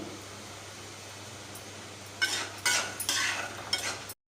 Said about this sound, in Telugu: మసాలా పొడి ఇప్పుడు బాగా కలుపుకోవాలి గరం మసాలా వేసుకోవాలి